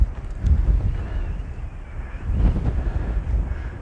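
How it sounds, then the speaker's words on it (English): Gusty wind blowing across the top of Dundeugh Hill in Scotland, a loud, rough rumble against the microphone that swells and eases in surges, with no voices. "A bit windy up here."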